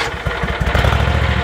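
A riding lawn mower engine turns over and catches, settling into a loud, close, rapidly pulsing run.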